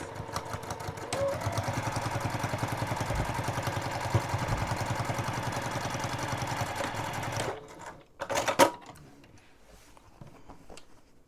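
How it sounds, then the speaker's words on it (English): A sewing machine stitches a straight seam on a boxy bag, running steadily with a fast even mechanical rattle for several seconds, then stopping, followed by a few clicks and handling sounds. "I am going to just stitch straight down, back stitch, add start and stop, and 1/8 of an inch seam allowance"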